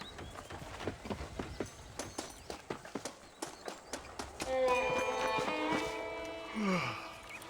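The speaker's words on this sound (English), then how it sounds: "Getting shot, then riding a horse seems to take it out of you." Horse hooves clip-clop in a steady walking rhythm in the Western video game Red Dead Redemption, close and distinct, before giving way to a denser passage with tonal layers and a brief snort near the end.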